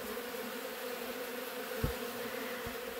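Bees buzzing at a beehive, a dense continuous hum held steady throughout, faint and close, with a couple of brief low knocks and no talking.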